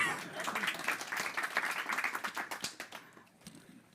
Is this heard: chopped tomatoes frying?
no